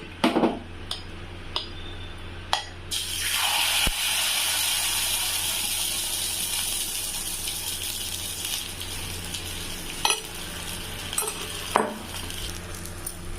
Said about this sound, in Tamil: ஒரு தாளிப்பு கரண்டியில் எண்ணெய் ஊற்றி வச்சுருக்கேங்க இதில் வந்து நம்ம இந்த மாவை ஊற்றிக்கலாம்